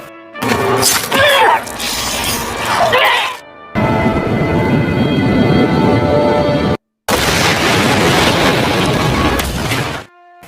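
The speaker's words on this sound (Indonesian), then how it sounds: "meledak bersama helikopter tempat itu" A helicopter explodes in a loud, sustained blast with crackling debris and roaring rumble, broken by brief silences, dense and close throughout.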